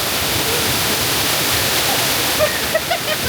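A natural waterfall at Badiang Spring Resort gives a dense, constant rushing roar of falling water, close and loud, with a few faint splashes near the end.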